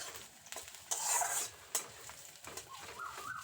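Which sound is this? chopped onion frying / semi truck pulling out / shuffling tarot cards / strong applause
chopped onion frying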